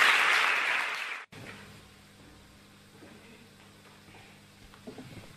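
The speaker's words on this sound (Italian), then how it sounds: "facciamo ancora un applauso a tutti gli ascoltatori." Audience applause at a youth gathering with Pope Francis during a pilgrimage from Orvieto to Rome, loud and dense for about a second, then cutting off abruptly to a quiet room with faint murmurs.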